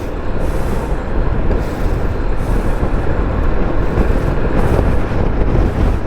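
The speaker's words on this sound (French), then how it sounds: "Oh, il y a du vent." Loud, rumbling wind buffets the microphone continuously while riding a Dualtron Mini electric scooter, a heavy low roar with no speech over it.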